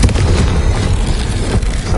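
A Confringo fire spell bursts in Hogwarts Legacy, a loud, dense, rumbling explosion that fills the whole moment with a sustained booming roar.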